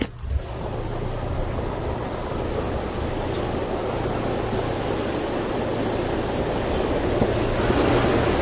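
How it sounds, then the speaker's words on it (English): Water flowing steadily in a backcountry Oregon creek along a hiking trail to Millers Lake, a continuous broadband rush with a faint low hum underneath, close and constant throughout. "Look, Riv, we're gonna cross the creek"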